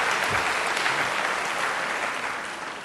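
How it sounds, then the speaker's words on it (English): Sustained audience applause at a graduation ceremony, a dense, steady wash of many hands clapping at once that fades slightly toward the end, with no voices over it. "please give them a round of applause"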